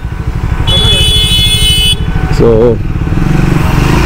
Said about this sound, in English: Fan is on